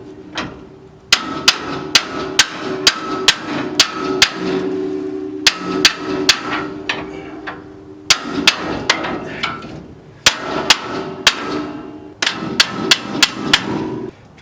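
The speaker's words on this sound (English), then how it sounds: "I'm going to hit it with the hammer and knock it kind of into place." A big brass Matco hammer knocks a spring into place on a Pontiac LeMans, sharp metallic strikes landing in quick bursts of several blows with brief pauses between, loud and close.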